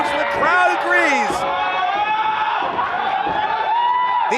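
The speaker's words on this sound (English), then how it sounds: "These fans are losing it." Wrestling arena crowd cheering, whooping and shouting loudly and continuously, with excited voices rising and falling close around, a dense roar during a tag team championship match.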